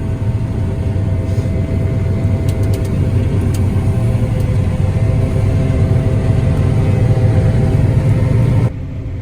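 A combine harvester's engine runs steadily during harvest with the header lowered, a loud, close, continuous low rumble and drone with a constant hum, which drops abruptly near the end.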